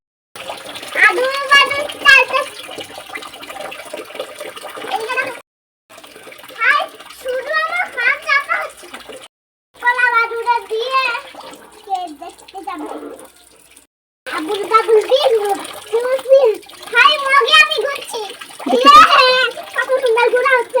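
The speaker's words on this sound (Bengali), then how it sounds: "জলটা বন্ধ করো, জলটা বন্ধ করো।" Tap water runs into a child's bath as a steady background hiss, mostly covered by near continuous talk from a child and an adult.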